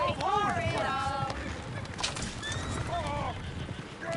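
In the video game Red Dead Redemption 2, horses neigh and whinny repeatedly while hooves clatter, with a voice talking over the noise.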